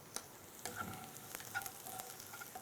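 Chopped onions, garlic and curry leaves sweat gently in a pan, giving a soft continuous sizzle with light stirring scrapes, close and fairly quiet with no talking.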